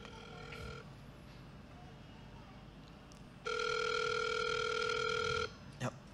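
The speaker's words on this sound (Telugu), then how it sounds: "ఎవరో ఫోన్ చేస్తున్నారు" A telephone rings in two electronic tones, a short ring then a longer one after a pause, fairly close and clear over faint background noise.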